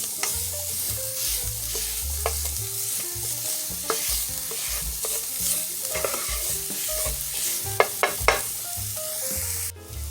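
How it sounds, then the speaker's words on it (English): Minced garlic sautéing in hot oil in a pan, a continuous close sizzle broken by scraping and stirring clicks, with no voices. "Now we're going to add in our minced garlic. You want to saute that"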